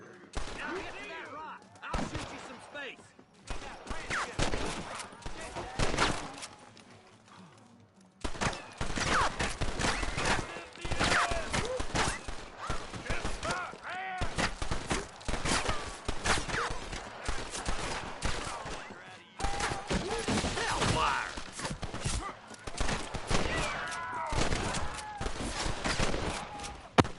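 Bursts of gunfire from a Red Dead Redemption shootout crack repeatedly, dense rapid volleys broken by a short lull, then resuming loud and close through the rest, with occasional voices under the shots.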